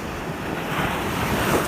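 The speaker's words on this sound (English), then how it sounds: "So even at low tide, usually the waves are really crashing." Surf washes steadily onto the shore at Sanibel Island on the Gulf, a broad continuous hiss of breaking water mixed with wind buffeting the microphone, close and fairly loud.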